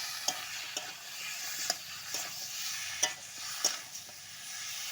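Meat with chili powder, turmeric and meat masala frying over a wood-fired stove, a faint continuous sizzle broken by sharp, evenly spaced stirring knocks, no voices.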